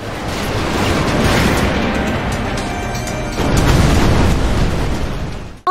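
Missile explosions boom in a boss fight in TheDawn, a dense, loud, continuous rumble of blasts that swells sharply halfway through and cuts off abruptly with one final hit.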